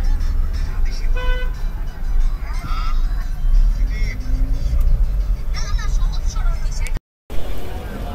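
Car horns toot repeatedly in a traffic jam in Gulistan, Dhaka, short honks from several vehicles near and far over engine rumble and street noise, with people talking throughout.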